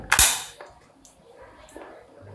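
A single loud AK-47 rifle shot cracks sharply up close, followed by a rattling echo and fainter clicks and handling noises as it fades.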